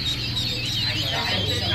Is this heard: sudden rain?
no